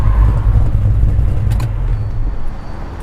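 A 1969 Chevelle SS 396 pulling in, its engine rumbling loud and low up close, then easing off and fading slightly as the car slows and settles.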